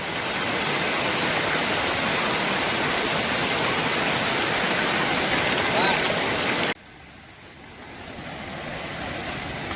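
Water from a waterfall up the slope rushes through dense forest in a loud, steady roar close by, then abruptly drops quieter and slowly builds again.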